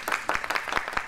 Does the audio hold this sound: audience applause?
yes